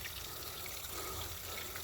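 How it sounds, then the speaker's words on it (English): Water trickles and runs steadily from a hose or outlet while a boat that has been sitting is washed, a soft continuous splashing wash close by with no talk. "water's coming out a little bit"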